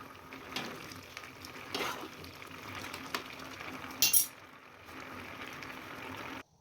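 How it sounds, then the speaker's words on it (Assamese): Vermicelli boiling in a pot of salted water on a stove, giving a steady close bubbling and rushing simmer with a short clink midway before it cuts off, no talk. "একদম ভালকৈ যেতিয়া বকবককৈ উতলটো আহিব"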